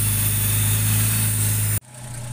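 A Jaguar 420 engine with a stuck oil pressure relief valve idles with a steady, close rumble and a constant high whine, from a noisy power steering pump, then cuts off abruptly near the end, leaving quieter hum.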